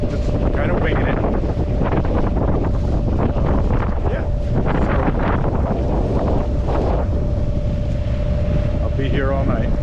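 Wind rushing over a sailboat on a solo sail, loud steady buffeting against the microphone with water and boat noise beneath and someone talking over it.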